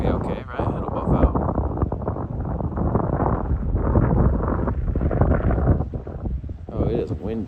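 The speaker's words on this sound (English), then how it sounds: "Oh, it is windy." Strong gusts buffet the microphone at a dual slalom bike track, a heavy, roaring rumble that swells and eases for several seconds, with brief voices at the start and end.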